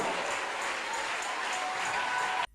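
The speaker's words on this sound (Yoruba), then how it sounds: "Give a clap offering of joy and rejoicing to Ẹ Jesus." A church congregation applauds together in a dense, sustained wash of clapping that carries on evenly and then cuts off abruptly at the end.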